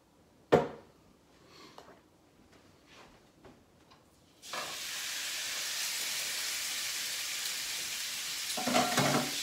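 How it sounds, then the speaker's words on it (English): Ground beef and cubed chuck roast hit a hot pan: a few quiet clinks and clatters, then a sudden loud, steady sizzle of sauteing meat that carries on to the end. "I'm going to start sauteing that meat."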